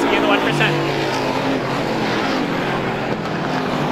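Stock cars roar past at Star Speedway, a loud continuous engine drone from the track with a commentator talking over it.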